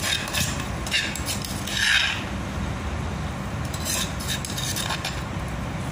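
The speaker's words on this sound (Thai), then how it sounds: "นี่นะคะใส่กระเทียมกับพริกที่ตำลงไปแล้ว" Pounded garlic and chili hitting a pan over medium heat for Thai basil pork stir-fry, giving a steady broadband sizzle with scraping and rubbing from a utensil, continuous and close.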